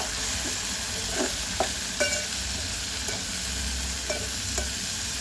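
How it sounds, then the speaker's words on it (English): Small omena fish frying in a pan with Royco seasoning, a steady close sizzle broken by scraping stir strokes at irregular intervals. "Stir the omena so that they can mix up with"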